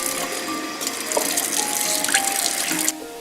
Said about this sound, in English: I rinse them in water.